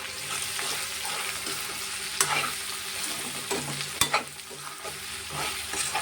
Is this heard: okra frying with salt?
yes